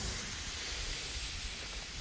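Cardboard boxes burn outdoors with a steady, dense sizzling hiss and crackle, close and continuous with no voices.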